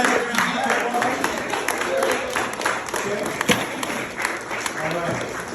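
Audience at a group weight-loss gathering claps for members standing up, scattered uneven clapping mixed with crowd murmur and voices talking over it.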